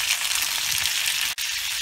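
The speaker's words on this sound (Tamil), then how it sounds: "பூண்டும் வெங்காயமும் நல்லா வதங்கிட்டுருக்கு" Garlic and onion sauté in hot oil in a pan for tomato chutney, a close, steady hissing sizzle that continues without a break.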